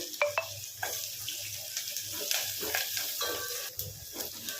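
Asafoetida and half a teaspoon of turmeric fry in the seasoning oil for old-style tomato rasam, a close, continuous sizzle punctuated by spoon scrapes and stirring clatter over a low background hum.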